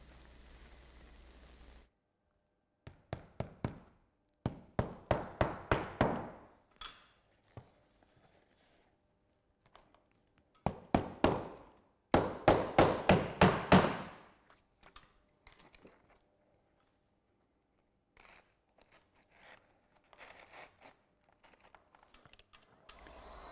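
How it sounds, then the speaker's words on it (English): Hammer nailing Onduline Bardoline bituminous ridge tiles on a roof: several rapid runs of sharp, close blows in quick bursts, separated by pauses and a few scattered lighter taps. "The ridge tiles are secured by lapping the tile tab section and nailing the trim section."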